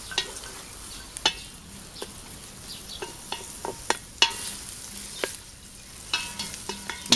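Chopped onion and garlic fry in bacon fat over high heat for a mushroom and bean stew, a soft steady sizzle broken by repeated sharp scrapes and clicks of stirring.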